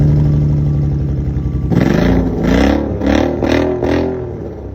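A car with a homemade $100 exhaust setup idles with a deep drone, then revs hard in four or five loud, rising blips, each dropping back briefly, with no talk over it.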